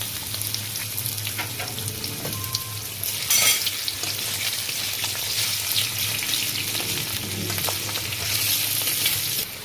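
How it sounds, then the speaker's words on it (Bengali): Potatoes fry in hot oil in a kadai, in the oil left from frying meat for chicken keema, giving a steady, close, loud sizzle with a brief louder crackle burst partway through and no talking. "ওই তেলে আমি একটু আলুগুলো ফ্রাই করে নেব"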